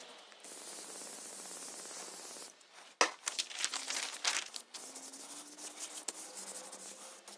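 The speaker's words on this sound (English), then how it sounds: "So I'll use spray glue for that." A can of spray glue hisses in a steady burst for a couple of seconds onto a paper pattern for a chipboard backing, followed by rubbing and crinkling of the paper being pressed down.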